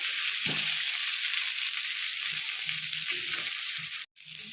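Mushi fish fillets frying in oil in a pan over a medium flame, with a loud, continuous, close sizzle and faint low bumps from handling, broken by a brief sudden dropout near the end before the hiss resumes.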